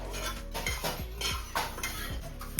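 Masala spices for egg curry roast in a pan, with steady scraping and clinking of a metal spatula against the pan in a quick, repeated rhythm, close and moderately loud.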